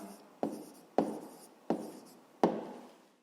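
Chalk or marker strokes on a board as a maths answer is written out, four or five crisp taps and scrapes at an even pace, close and quiet, with no talk.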